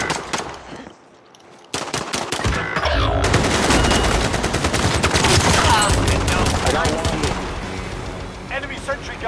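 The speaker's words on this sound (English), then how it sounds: "Enemy sentry gun action." An enemy sentry gun fires in a video game, unleashing long, loud, continuous automatic bursts after a brief lull, with voices mixed in beneath the gunfire.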